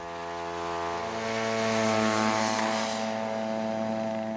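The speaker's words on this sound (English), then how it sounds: "the U.S. Marines sent an unmanned spy plane on a routine flight over Iraqi positions in southern Kuwait" Unmanned spy plane on a routine flight over Iraqi positions in southern Kuwait, a steady propeller-engine drone with a strong harmonic whine that swells slightly and holds throughout, with no talk.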